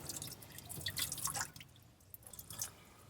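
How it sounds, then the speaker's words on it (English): Water splashes and trickles from a foot-pumped tap in a Ford Transit campervan conversion, a faint, uneven patter of drips and small gushes lasting a few seconds. "use our foot to pump, and the water comes out."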